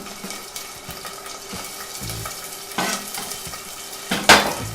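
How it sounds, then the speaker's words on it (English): Anchovies and garlic fry together in a pan with steady low sizzling, broken by occasional utensil scrapes and a sharper clatter near the end; a voice says a single word briefly. "Put them together because the anchovies and the garlic will go together."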